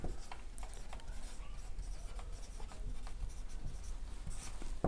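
A pen or chalk scratches across a board during a Hindi geography lesson, making scattered short strokes and taps. The sound is faint and close, with a dull background hum.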